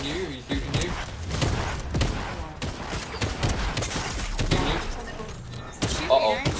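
Gunfire in the Fortnite video game: dense, rapid bursts of shots and thuds run through the whole stretch at close range, mixed with game effects, loud and busy throughout.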